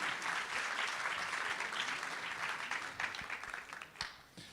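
An audience at the Trophées Idée Alsace award ceremony gives sustained applause, a steady wash of clapping that thins into a few scattered claps near the end.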